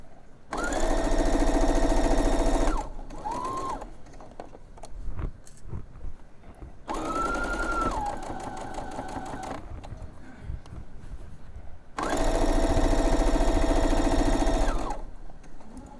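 A sewing machine stitches tote bag straps in three loud, close bursts of rapid whirring, separated by short pauses with quieter handling noise.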